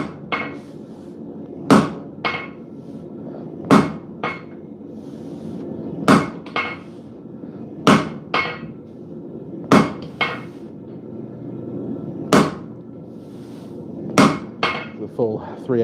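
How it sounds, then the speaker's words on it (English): Heavy hammer blows cut through a thick 3/8-inch leaf spring at a smithing forge, loud ringing strikes landing about every second or two in pairs and singles, close up, with light workshop noise between them. "It's a thick boy leaf spring, so I've got to really put some muscle into cutting it."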